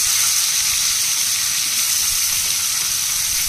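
Prawns frying in a pan give a steady, loud sizzling hiss that holds at an even level throughout, with no voices.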